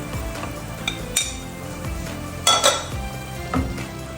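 Masala fries in a pan as dried coriander and cumin are stirred in, with a soft steady sizzle broken by several sharp metallic clinks of a spoon against the pan, no one speaking.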